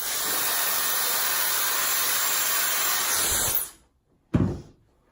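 Dyson Supersonic hair dryer blowing in a steady, strong, close rushing hiss that cuts off after about three and a half seconds, followed by a single short blast.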